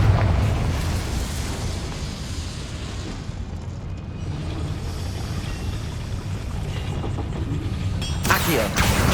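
Confringo blasting spell in the Hogwarts Legacy video game: a steady rumbling game soundscape that ends in a sudden loud, bright explosive burst.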